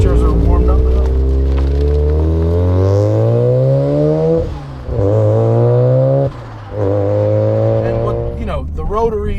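A modified FD Mazda RX7 with a 400+ hp rotary engine revs hard and close, its high-pitched note climbing steadily with two brief dips at gear changes before rising again, loud throughout.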